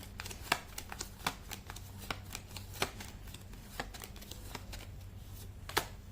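Tarot cards are shuffled and drawn by hand, a close, quiet series of crisp riffling snaps and flicks in an uneven rhythm, with no talk.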